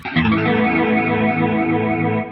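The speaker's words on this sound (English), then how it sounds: "you'll hear the delay panning from side to side" Sustained electric guitar chord through a Boss Katana amp's stereo delay, repeats panning side to side with a chorus-like shimmer, loud and continuous with no talking.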